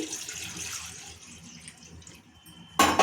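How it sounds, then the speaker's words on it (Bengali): Water pours from a large bowl into a wok in a home kitchen, a steady watery splash running for a few seconds that fades, then a sudden loud gush of water near the end. "কড়াতে বড় এক বাটি জল দিয়ে দিচ্ছি"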